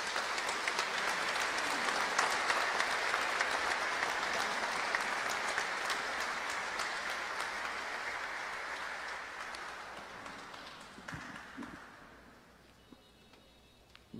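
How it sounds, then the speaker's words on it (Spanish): Congregation applauding at a church celebration opening a fourth centenary in Costa Rica, sustained rapid clapping from a large crowd that gradually thins and fades away, ending in near quiet with faint shuffling. "un aplauso para Dios y para ustedes"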